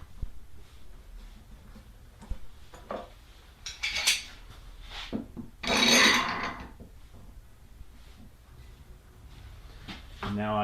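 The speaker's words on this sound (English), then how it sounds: "So once you have it positioned, clamp it in place" A wooden bookshelf leg is clamped in place, giving a few short scraping, rasping clanks and knocks scattered across the stretch, with the loudest grinding burst near the middle and quiet room sound between them.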